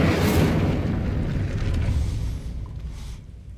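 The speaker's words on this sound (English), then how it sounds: "I need to find a way to open that gate. Incendio!" An Incendio fire spell is cast in Hogwarts Legacy, a burst of whooshing flame with a low booming rush that swells at once and then fades over a few seconds.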